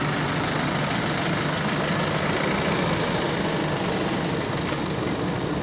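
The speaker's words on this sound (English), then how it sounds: "Delivery trucks hanging around making noise." Delivery trucks idle nearby outdoors, a steady unbroken rumble of heavy engines with broadband hiss that holds at an even level throughout, with no talking.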